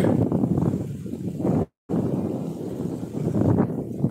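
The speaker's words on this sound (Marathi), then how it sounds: "इथे कंटिन्यू आहे ना वारा वाहतो, त्यामुळे माझा आवाज कदाचित तुम्हाला येत नसेल." Strong, continuous wind blowing at Radhanagari lake, roaring loudly against the microphone with gusts and a brief cut-out, no voices over it.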